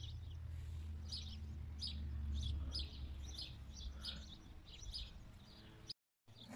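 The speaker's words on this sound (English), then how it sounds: "And the bird is noisy. It's noisy. Small but noisy bird." A small noisy bird chirps repeatedly in short, bright, fairly faint bursts among garden plants over a steady low background hum.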